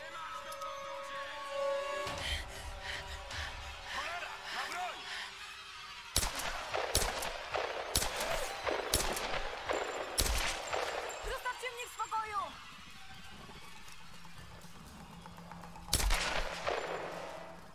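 Gunfire in the video game Tomb Raider (2013) crackles in sharp bursts and single shots over several seconds, mixed with game sounds and someone talking at times.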